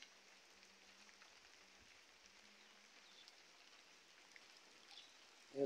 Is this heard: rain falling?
yes